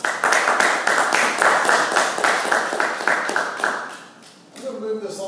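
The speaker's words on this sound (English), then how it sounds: "let's give Mr. Steve Brown a big round of applause" A Toastmasters audience applauds after a speech, with steady massed clapping that is loud and close before fading toward the end, where a voice begins to speak.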